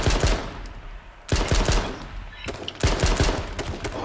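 Rapid automatic gunfire from the online survival video game H1Z1, loud and close, coming in three dense bursts separated by brief pauses, with no talking over it.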